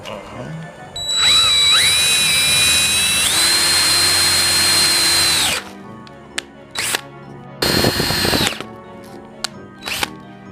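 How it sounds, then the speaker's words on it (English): A power drill whirs loudly for several seconds, its pitch rising as it drives a bolt into wood, then stops; a second short burst follows after a few clicks. "will willingly drill the bolts for the Frankenstein"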